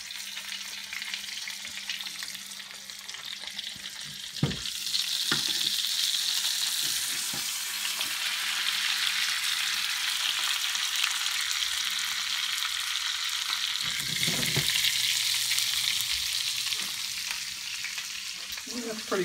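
Steak sizzling steadily in a Le Creuset grill pan, a loud, continuous hiss of frying fat held close for the whole stretch, broken by a few sharp clanks and scrapes as the pan is moved around.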